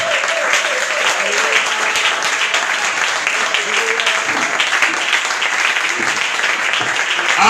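A church congregation applauds and cheers for Jesus during a worship service, with dense, sustained clapping and a crowd of voices that stays loud and steady from start to finish.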